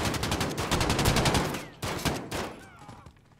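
Rapid gunfire in a first-person shooter video game bursts in quick repeated volleys, loud and close, then tapers off into a few scattered shots and fading echoes.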